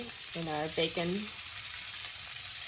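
Cabbage frying in reserved bacon grease, a steady close sizzle with a brief voice heard near the start.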